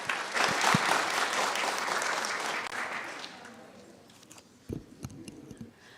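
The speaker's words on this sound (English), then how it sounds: "Let's give her a round of applause." A school audience applauds a grade 8 student speaker at a public speaking contest, the clapping loud and full at first, then thinning and fading out, leaving a few scattered late claps and small handling noises.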